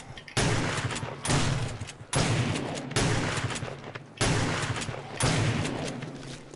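Shotgun blasts at zombies in 7 Days to Die, five heavy booming shots spaced roughly a second apart, each loud and close with a long decaying tail.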